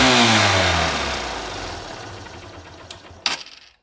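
A motorcycle engine fires up after its spark plug has been cleaned, giving a loud rev whose pitch falls away over a couple of seconds as it dies down, followed by a few sharp mechanical clicks.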